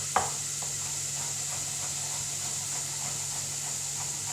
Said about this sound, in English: you can hear the onion, well, the celery and the leek and the mushroom starting to cook